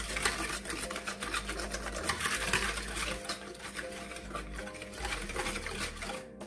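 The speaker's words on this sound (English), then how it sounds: "And we're going to whisk that together" Brown sugar is whisked in a bowl for vegan pumpkin scones, making a continuous, close, rapid scraping and rattling without pause.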